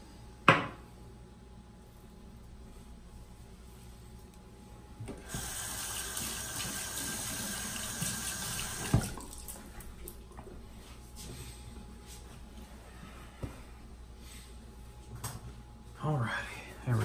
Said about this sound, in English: Rinse my razor here, get it wet.